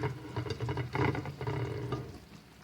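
Potatoes go into a simmering Turkish chicken and vegetable stew, bringing close stirring, sloshing and a soft sizzle of pan contents for a couple of seconds without talk.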